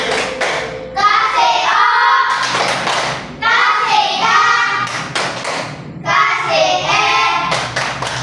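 Children clap hands together in rhythmic bursts during a classroom chant, three clapping rounds in a steady pattern while a group of young voices calls out between them.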